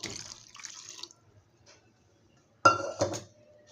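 Water poured into a pot of whole masoor curry, with a short splashing pour, a pause, then a louder splash and clinking of the pot and utensil, close by.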